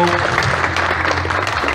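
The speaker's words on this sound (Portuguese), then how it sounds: "Uma salva de palmas pro Lago." Crowd at a railway station applauding a municipal guard canine unit presentation, steady close clapping with a low hum underneath and murmured voices mixed in.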